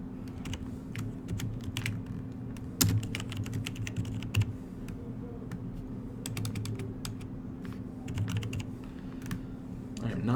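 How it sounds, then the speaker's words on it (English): Rapid clicking of fingers typing on a computer keyboard, an irregular stream of sharp keystrokes with occasional louder taps, over a steady low electrical hum. "I am not familiar with this keyboard."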